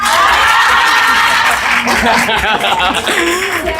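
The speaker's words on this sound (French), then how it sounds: "Applaudissez pour lui." A crowd claps and laughs together, applause mixed with chuckles and voices, loud and lively throughout.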